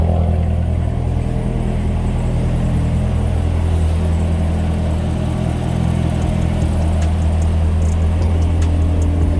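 A 2019 Corvette ZR1 fitted with a performance intake runs with its exhaust open, giving a loud, continuous, deep engine rumble that holds steady throughout with no talking.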